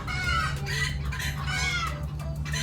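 Backyard chickens kept at a home garden cluck and squawk in short bursts, startled, close by over a steady low hum.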